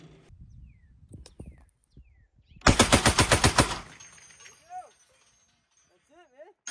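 A .50 caliber machine gun fires a loud, close burst of about ten rapid rounds, preceded by quiet handling clicks, then ringing echoes and whistling tones fade as people talk.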